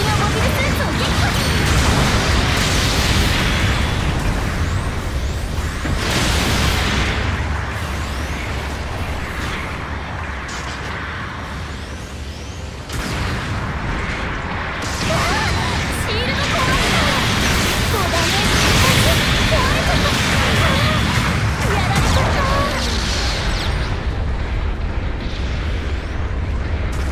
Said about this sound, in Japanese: 支援砲撃が来るよ。